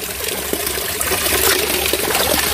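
Water trickles steadily from a small mountain spring in a hillside setting, a continuous close gurgling flow with no voices.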